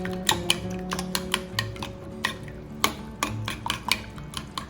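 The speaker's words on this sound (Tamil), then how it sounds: "கொஞ்சம் வெங்காயம், கொஞ்சமாக உப்பு போட்டு நல்லா அடிச்சிக்கலாம்." Eggs with chopped onion and salt are beaten in a bowl for an omelette curry, quick irregular clicks and taps of a utensil against the bowl, close and fairly quiet.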